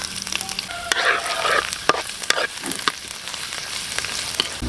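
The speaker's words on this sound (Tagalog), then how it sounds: "ako naman ang magigisa ng bawang, luya" Chopped garlic and ginger being sautéed in a pan while cooking dinuguan, with a bright close sizzle, spatula clatter and scraping strokes against the pan throughout, and no talking.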